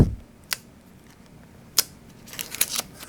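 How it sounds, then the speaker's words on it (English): A sharp X-Acto knife blade is drawn through vinyl coating on a model railroad control panel, giving a few brief, crisp scraping strokes spaced apart in a quiet room. "get yourself a good, sharp X-Acto knife blade. And then just make a couple of runs through here."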